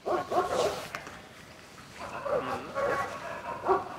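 A dog barks and whimpers in a few short bursts, near and moderately loud, with quieter gaps between.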